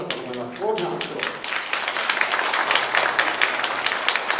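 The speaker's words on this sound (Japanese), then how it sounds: "大きな拍手を。" Audience applause after a wind band concert at an outdoor music plaza during a balloon festival, a dense steady clapping that builds after a brief moment and holds loud throughout, with a voice talking over the start.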